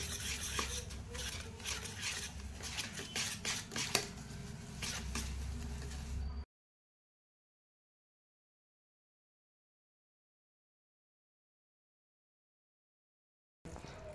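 Sugar and oil are stirred together in a bowl with a steady scraping, rubbing sound for about six seconds, followed by a long silence and a brief return of stirring at the end.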